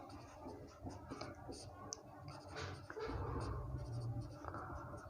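A pen scratches across paper while a square-root formula for standard deviation is written out, soft, close strokes with a few light taps, followed by a lower continuous scraping.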